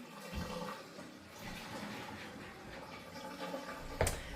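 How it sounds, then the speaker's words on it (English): A very quiet toilet flushing, a soft low rush of water running for several seconds, followed by a brief sharp clack near the end. "that's the quietest flushing toilet ever"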